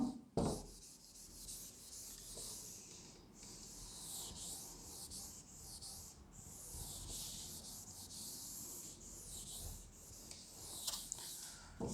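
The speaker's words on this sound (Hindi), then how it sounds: "इसको मैं रब कर देता हूं।" A board is rubbed clean of writing in a classroom, a continuous soft scrubbing and swishing with rhythmic strokes, quiet and close, with no talking.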